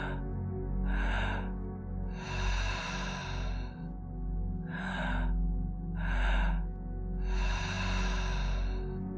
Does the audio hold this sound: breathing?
yes